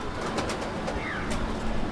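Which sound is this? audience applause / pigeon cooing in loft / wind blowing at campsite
pigeon cooing in loft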